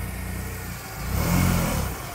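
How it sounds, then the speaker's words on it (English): A Smart Fortwo 450 engine with a new exhaust idles, then revs up with a throaty exhaust note before settling back, close by and fairly loud. "it sounds better with the new exhaust"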